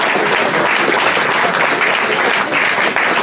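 An audience at a certificate award ceremony applauds steadily and loudly, a dense, even wash of clapping throughout.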